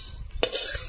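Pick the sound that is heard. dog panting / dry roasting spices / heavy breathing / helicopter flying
dry roasting spices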